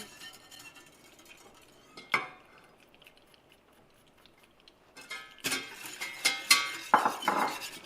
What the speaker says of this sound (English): you're going to take your instant espresso powder and mix that in